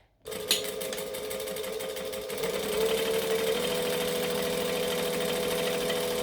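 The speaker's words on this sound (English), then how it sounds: "come up the other end and top stitch from top to bottom again" A sewing machine top stitching fabric, starting abruptly and running in a continuous, close, steady whirring hum with a rapid mechanical needle rhythm and a slight rise in speed partway through.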